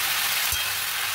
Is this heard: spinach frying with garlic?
yes